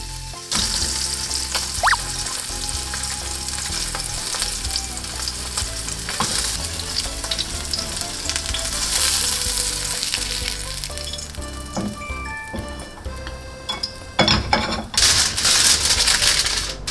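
Salmon steak frying in oil in a pan, a loud, steady crackling sizzle that runs throughout with scattered sharp pops and spatters, no voices over it.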